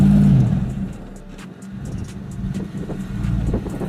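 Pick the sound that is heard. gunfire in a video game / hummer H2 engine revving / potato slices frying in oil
hummer H2 engine revving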